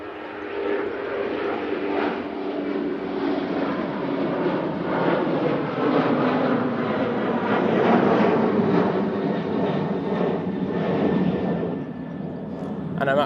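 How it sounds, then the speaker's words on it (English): An airliner rolls down the runway for takeoff at Manchester Airport, a broad, steady engine roar building slightly toward the middle and holding loud throughout, with a voice talking over it. "There is a plane, there we go. Right now on the roll."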